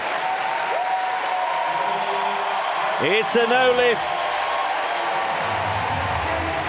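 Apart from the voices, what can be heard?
Paris crowd applauding at Paralympic powerlifting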